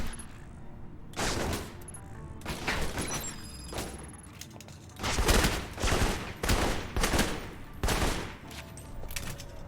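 Gunfire in the video game Alpha Protocol, repeated loud bursts of automatic fire and shots in quick succession with brief gaps, close and dominant, no talk.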